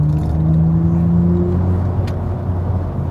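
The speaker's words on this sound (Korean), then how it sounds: "잠깐 주행 모드를 스포츠로 돌리고 가속 페달 꾹," A Genesis GV60 Performance electric car accelerates hard in sport mode with boost, heard from inside as a rising electric motor whine over a low, steady road rumble.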